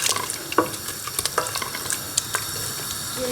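Tomato concentrate in a pot of meat sauce for berkoukes sizzles steadily as it reduces and colours, with close, sharp scrapes and clinks of stirring scattered over the continuous frying hiss.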